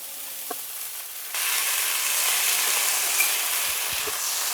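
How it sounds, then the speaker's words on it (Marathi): Chili, soaked chickpeas and peanuts roast in hot ghee, giving a steady close sizzle that jumps louder after the ingredients drop in, with a few faint stirring knocks and no voices. "तुपामध्ये छान भाजून घेऊया."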